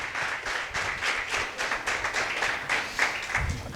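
Church congregation giving a round of applause, moderately quiet clapping with distinct individual claps in an uneven patter across a few seconds.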